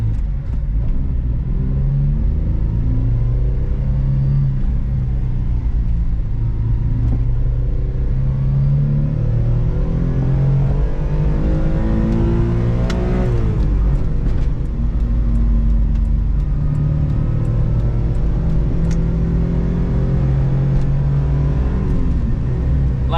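A Mitsubishi Bravo kei van with a 660cc engine drives along a New York City street, its small engine humming close and steady and its pitch shifting as it speeds up midway, with no one talking.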